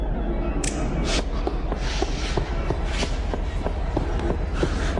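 Quick steady footsteps of a man running through a Minecraft cave on stone, a rapid even rhythm of light thuds beneath a dense, noisy ambient wash.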